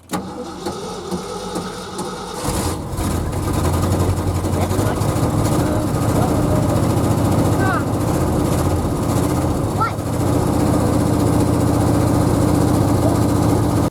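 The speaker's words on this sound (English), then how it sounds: "now that this thing actually fired up, it sounded like it might try to idle" A Ford F-350 that sat for years cranks and fires up, then settles into a loud, rough, steady idle recorded close by, with a few brief voices over the engine.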